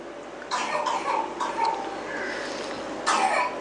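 A child coughs in short bursts, several rough coughs spread across a few seconds, heard at moderate distance over a hall-like background during a religious discourse gathering.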